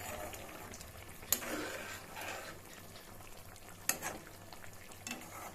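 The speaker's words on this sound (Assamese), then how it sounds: "টেঙা জোল উতলি আছে" Assamese-style sour fish curry bubbles and simmers quietly in a pot, a faint steady boil broken by two sharp clinks, with no talking.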